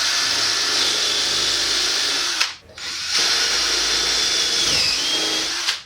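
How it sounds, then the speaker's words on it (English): Power drill boring a 1/4 inch hole straight down into wood with a stop collar: a loud, steady high whine that cuts out briefly around midway, resumes, pitches down under load near the end, then stops. "So now all you've got to do is drill straight down through, and I've got a stop collar on this thing"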